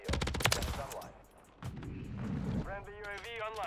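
Rapid bursts of SMG fire from a Rival 9 submachine gun in Modern Warfare 3 rattle loudly at the start, then go quiet before more gunfire returns. A player talks over the later part.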